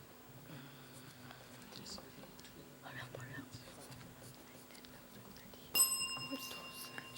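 A quiz-show bell rings out suddenly near the end to close a round and match in a primary school quiz contest, a bright metallic strike with a ringing decay following quiet murmuring voices.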